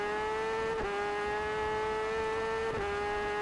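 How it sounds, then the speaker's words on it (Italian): Kawasaki motorcycle in the RiMS Racing video game holding a sustained high engine whine at speed, with two brief dips in pitch as gears shift, steady and prominent with no voices. "Senti come accelera la nostra Kawasaki"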